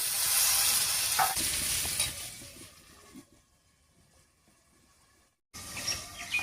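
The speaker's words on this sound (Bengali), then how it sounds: "এবারে ঢাকা দিয়ে বেশ কিছুক্ষণ রান্না করে নেব।" Papaya cooking in a pan with salt and turmeric, a soft sizzle and bubbling that fades as a lid goes on. The sound becomes muffled and very faint, drops briefly to near silence, then returns.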